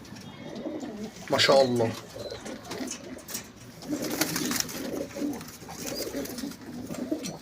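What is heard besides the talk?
pigeons cooing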